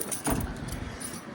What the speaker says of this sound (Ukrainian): Обов'язково забираємо ключі з машини